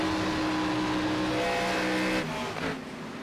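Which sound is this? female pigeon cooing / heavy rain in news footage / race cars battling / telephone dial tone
race cars battling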